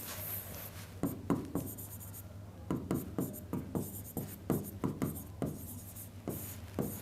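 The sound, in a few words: writing on a slide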